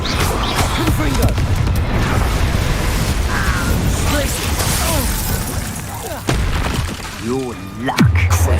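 Spell explosions from a Confringo fire charm in Hogwarts Legacy boom and burst amid a dense, continuous din of combat effects and dialogue, with a final sharp blast near the end.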